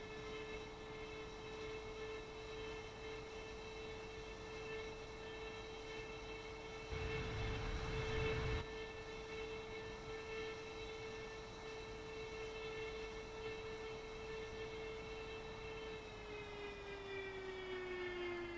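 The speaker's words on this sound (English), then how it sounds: "Seems that the engine didn't start properly." A Mirage 2000C jet engine spinning up in a flight simulator, a steady whining hum with tonal whistles that drops in pitch near the end, briefly interrupted by a louder rushing roar partway through.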